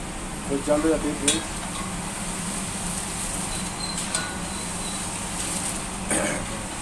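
Potato strips for French fries fry in hot oil with a steady, fine sizzling hiss, joined by a few clinks of utensils and a brief voice near the start.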